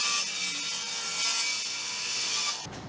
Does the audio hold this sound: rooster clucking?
no